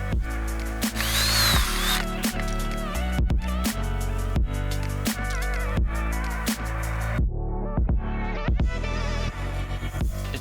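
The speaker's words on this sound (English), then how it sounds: "the Power Planter auger bits, they fit straight into your drill and make the job simple" A power drill fitted with an auger bit whirs loudly and steadily while digging into soil, its motor pitch dipping and surging as the bit grinds in, with brief pauses between bursts.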